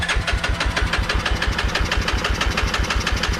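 A Vauxhall car engine with the choke on runs in a fast, steady, rhythmic chug close by, with a slightly knocking beat throughout.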